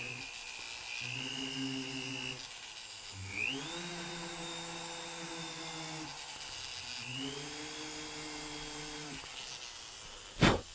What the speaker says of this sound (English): I'm using a sanding drum